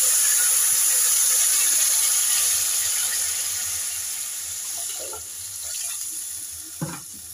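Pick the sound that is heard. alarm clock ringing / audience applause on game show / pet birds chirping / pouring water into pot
pouring water into pot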